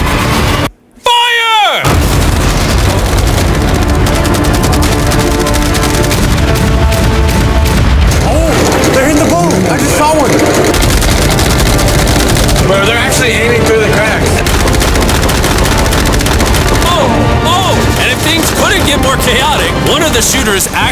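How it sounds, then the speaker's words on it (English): Around a yacht, heavy gunfire and exploding fireworks set off when shooters hit a fireworks stand: a loud, continuous barrage of blasts and crackling, broken by one brief silence near the start, with voices talking over the din. "The shooters accidentally shot the fireworks stand and caused this to happen."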